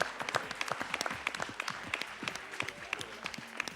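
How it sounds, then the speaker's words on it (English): Applause from an event crowd welcoming footballer Pele on stage at a live promotional appearance in Malaysia, a dense, steady patter of many hands clapping throughout. "please give a big round of applause for the greatest of all time, the greatest footballer"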